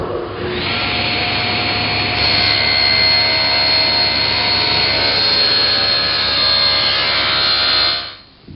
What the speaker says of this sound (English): I've tilted the table saw blade to 30 degrees and adjusted the rip fence for the correct height.